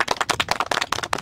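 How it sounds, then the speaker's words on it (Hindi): Quick, close clapping of hands, a rapid run of sharp claps in an uneven rhythm with no talk over it. "अरे वाह बजाओ ताली"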